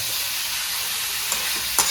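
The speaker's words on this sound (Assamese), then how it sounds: "এতিয়া দেখিছেনে এই এনেকৈ ভাজিব লাগিব প্ৰায় আমি চাৰি মিনিটমান সময় আমি ধুনীয়াকৈ এনেকৈ ভাজি ল'ম" Chicken frying in a pan with ginger, garlic, onion and chili, a steady close sizzle with a couple of brief stirring scrapes, no voices.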